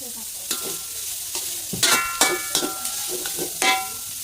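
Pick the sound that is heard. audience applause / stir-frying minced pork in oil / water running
stir-frying minced pork in oil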